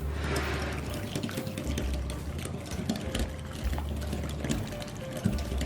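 Cold process soap batter, tinted with black mica, is poured into a mould with soft, close, uneven liquid splashes and small clicks, and no talking over it.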